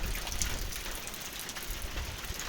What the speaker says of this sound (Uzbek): Tarnovdan tushayotgan yomg'ir.